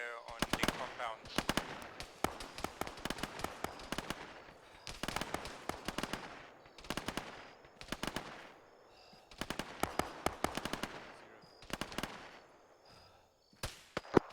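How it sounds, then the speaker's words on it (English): Bursts of automatic gunfire from a squad laying suppressive fire on compounds in the military shooter Arma 3, sharp rapid cracks arriving in repeated clusters of varying length, fairly loud and dense throughout. "1-1 is providing suppressive fire on the compounds"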